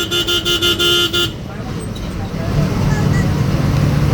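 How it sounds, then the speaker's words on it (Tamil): A KSRTC bus horn honks in a quick series of short repeated toots, loud and close, on the Trivandrum to Nagercoil road, then gives way to road and traffic noise. "இவரும் ஹார்ன் அடிக்கிறாரு"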